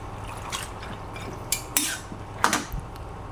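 Peanut and garlic mixture stirred in a pan, with scattered scraping clinks of a utensil against the metal over a steady background hiss, a few sharper knocks standing out, no voices.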